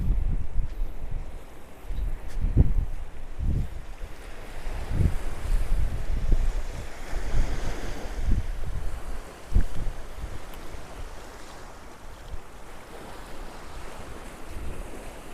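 Ocean waves at St Mary's Island beach near Malpe, Udupi; rolling surf with repeated low wave crashes and steady wind buffeting the microphone, no talk.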